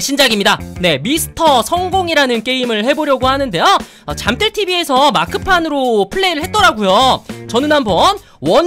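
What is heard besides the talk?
None of the usual background noises is heard.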